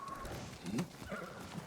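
A horse in a video game clip-clops with a few soft hoof knocks and a faint snort, quiet and brief against light game ambience.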